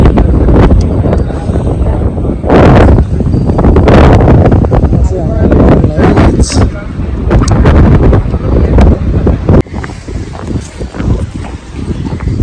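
Gusty wind roars and buffets the microphone in a steady, rough rush at a river crossing, with occasional louder blasts and faint voices underneath.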